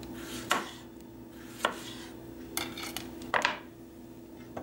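A knife chops through large tomatoes on a cutting board, giving four or five separate, spaced thuds against a low kitchen hum, with no talk.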